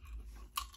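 Doritos Tangy Tamarind chips being chewed, a faint crunchy bite and chomp heard close up for a brief moment over low background rumble.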